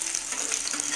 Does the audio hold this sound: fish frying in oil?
yes